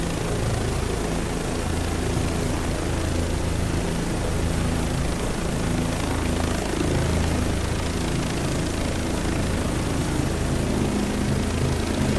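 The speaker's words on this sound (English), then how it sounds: "Boy, look at that nice yellow helicopter," A yellow helicopter flies near a front-line area, its rotor and engine drone steady and loud throughout with a continuous low throb and broad roar, no voices heard.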